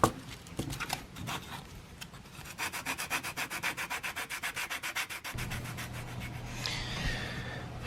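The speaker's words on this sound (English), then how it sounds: "I'm just going to go ahead and work on these sides. A little bit of sandpaper." Sandpaper rubs rhythmically along the edges of a leather knife sheath, a steady run of close, regular scraping strokes with a short pause and lighter rubbing toward the end.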